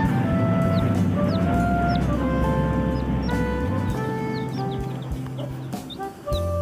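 A chick from a satin chicken crossbreed makes repeated high, short peeping calls over a low steady background hum, with several chirps spread evenly through the clip.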